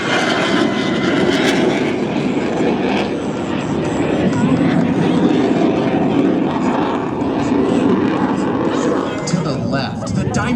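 Blue Angels F/A-18 jets roar past at the 2024 Cleveland National Airshow, a loud, sustained engine rush filling the whole span, with an announcer talking over it.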